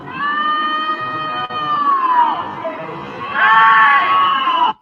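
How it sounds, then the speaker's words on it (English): Emergency sirens wail and sweep over a crowd of protesters yelling at a shooting scene in Minneapolis involving an ICE agent, with raised voices and shouting mixed into the loud, wavering tones. "So there's a crowd there."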